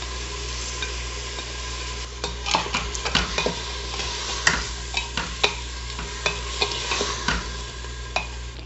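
Chopped onion, cinnamon and tomatoes fry in a pan with a constant sizzle, punctuated by repeated sharp scrapes and taps of a spoon stirring against the pan.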